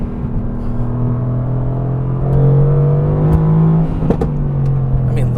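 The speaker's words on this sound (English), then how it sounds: "it's still a freaking good sounding motor with the titanium exhaust in this car" A Mercedes-AMG GT R with a 4-liter engine and titanium exhaust idles with a deep, steady rumble, then revs up in a swelling blip before settling back, close and loud, with a couple of sharp pops.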